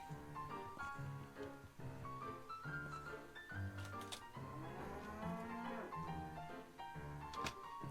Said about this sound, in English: Seems the cows have taken over.